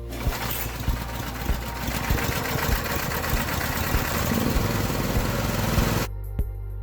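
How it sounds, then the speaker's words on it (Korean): A power cultivator's small engine runs steadily with a loud, even chugging rumble until its fuel is used up, then cuts out abruptly near the end, leaving a couple of faint thuds. "시동을 걸어 자연이 꺼질 때까지 연료를 모두 소모시킵니다."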